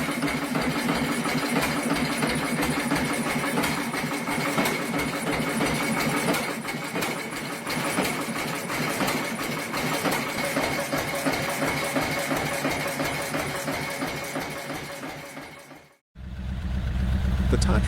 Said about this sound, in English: Water-cooled with a clutch-driven belt pulley, it could run for months continuously.